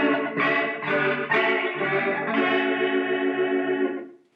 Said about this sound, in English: I wanted to make it sound like the chipmunk filter, so I came up with this wacky tone.